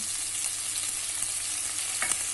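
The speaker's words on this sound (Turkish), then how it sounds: "Ee, yağımızı kavuruyoruz. Salçamızı." Homemade tomato paste frying in hot oil for Turkish sulu köfte gives off a steady, dense sizzle, with a faint stir or scrape near the end.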